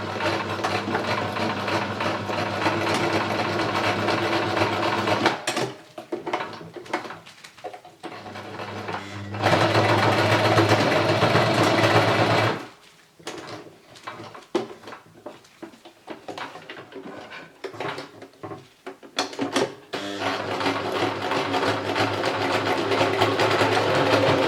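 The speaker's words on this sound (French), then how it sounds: "Je ferai aussi mon masque à moi à la machine à coudre" A home sewing machine stitching a recycled-fabric protective mask, its steady mechanical whir running in long bursts, broken by brief pauses and quieter handling noise between runs of stitching.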